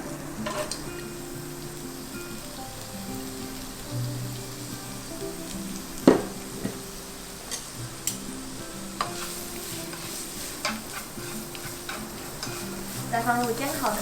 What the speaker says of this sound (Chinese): 原锅放入老姜跟红萝卜炒香